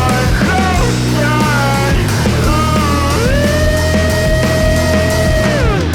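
Heavily distorted, fuzzy guitars drive a dense incelcore/e-punk/gen-z grunge chorus, loud and full throughout with sustained bent melodic lines riding over a thick, buzzing wall of sound.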